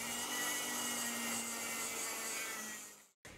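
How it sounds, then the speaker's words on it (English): A Dremel rotary tool with a drum sander grinds the edge of a carbon fibre rifle stock, a faint, steady whirring whine that runs evenly before cutting out abruptly near the end. "sand back to the line using a drum sander in the Dremel"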